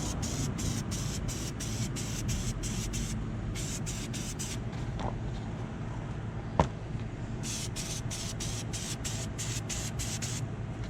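Repeated short bursts of aerosol oil sprayed onto a Kawasaki Ninja 250 air filter, coming in quick rhythmic hisses in two clusters with a pause between them, over a steady background hum and a single sharp tap.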